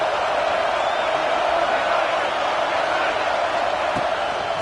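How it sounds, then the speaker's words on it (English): A dense stadium crowd roars without pause during a tense third-down play in College Football 26, a loud, broad wash of cheering. "this crowd is at fever pitch."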